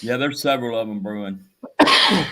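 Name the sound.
sneeze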